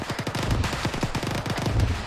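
Rapid bursts of gunfire crackle during platoon field training, dense overlapping shots popping in quick irregular runs at moderate distance.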